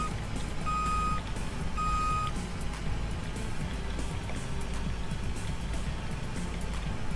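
Two short bursts of high electronic reversing beeps ring out from a vehicle backing up in Airport Simulator 2015, over a continuous loud engine rumble that carries on after the beeping stops.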